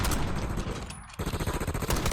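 Rapid gunfire rattles in Black Ops 6, close and loud in two quick automatic bursts separated by a brief pause.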